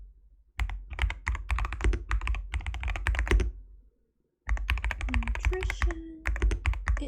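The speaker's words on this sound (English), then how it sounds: "I can type on my keyboard, thank you." Typing on a computer keyboard during homework: two bursts of quick, close, clicky keystrokes separated by a short pause, with no talking.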